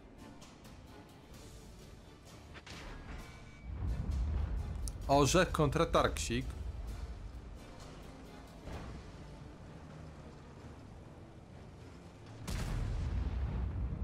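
Tank cannon shots in a tank battle video game, several heavy booms and a burst of rapid firing under continuous excited commentary.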